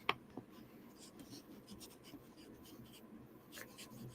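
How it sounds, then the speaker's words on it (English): Pen writing by hand on a sheet of paper, faint scratchy strokes coming in short bursts that rise and fall over a soft background hiss, heard up close with no voice. "I'll write that on here."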